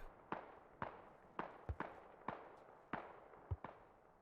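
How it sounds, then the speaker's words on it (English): Repeated mortar fire in a multiplayer military video game, seven or eight sharp reports spaced about half a second apart, some with a deeper thump, at moderate distance against a quiet background. "Sounds like they're back on the mortars rather than the tow missile though"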